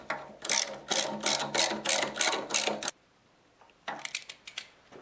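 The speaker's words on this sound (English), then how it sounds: "And I'm going to reinstall the bolt at the top here. And again, it's a 12 millimeter socket." A ratchet wrench with a 12 mm socket reinstalls a top bolt on a Kawasaki Vulcan 800 motorcycle, giving fast, close clicking for a few seconds, a pause, then a shorter run of clicks.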